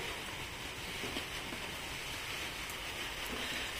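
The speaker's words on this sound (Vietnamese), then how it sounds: "Thì trời ở ngoài cũng đang mưa, mưa lâm râm như cả nhà." Light, steady rain falls outside a rural farmhouse in Vietnam during tropical low-pressure weather, a soft, continuous hiss with no gaps, faint and even from start to finish.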